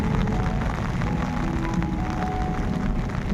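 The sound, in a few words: heavy rain falling in a village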